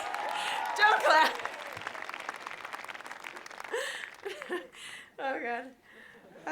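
Audience applause at a commencement address rises as a bed of clapping beneath a speaker's voice, with crowd noise and laughter mixing in and the clapping fading as talk continues.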